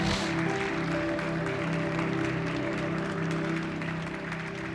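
Church congregation applauding during an evening service, a steady dense wash of clapping under sustained organ or keyboard tones that continue throughout.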